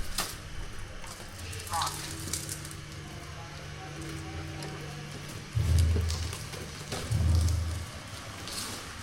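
Meat and vegetables sizzling and frying on a stove, a steady crackling hiss with louder bursts of stirring and clattering near the end, close, with faint background ambience.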